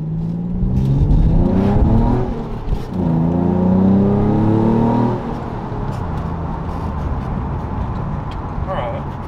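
An Infiniti G35 engine with a big bore throttle body revs up twice, pitch climbing through the gears, with someone talking over it before the engine settles back to a low hum.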